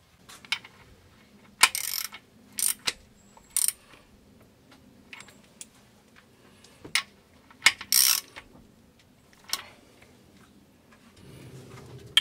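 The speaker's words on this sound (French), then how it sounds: "je vais serrer l'arbre à cam" Ratchet wrench tightening camshaft bolts on a Mercedes Baby-Benz engine, short bursts of rapid clicking ratchet strokes separated by pauses and faint metallic taps, close and moderately loud.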